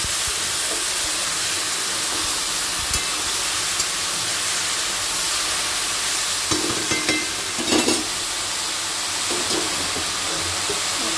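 Ridge gourd frying with turmeric in a pan, stirred with a steady low sizzle and hiss, scraping and stirring noises rising briefly near the end, no voices.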